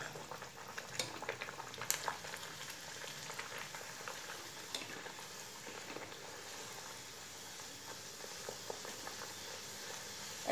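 Tomato puri deep-frying in hot oil gives a faint, steady crackling sizzle with small bubbling pops and an occasional light tap, heard close and alone without speech.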